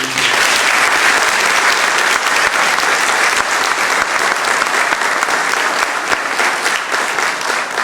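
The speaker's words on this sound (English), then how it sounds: "Please give them a round of applause" Loud, sustained applause from a large audience at a Navy graduation ceremony, steady dense clapping throughout with no break.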